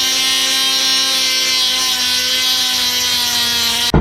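A Dremel rotary tool grinds through glazed bisque pottery with a loud, steady high-pitched whine that holds unbroken for about four seconds, then shifts sharply as the bit breaks through at the end.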